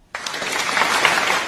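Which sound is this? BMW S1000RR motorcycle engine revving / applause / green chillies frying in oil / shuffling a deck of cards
applause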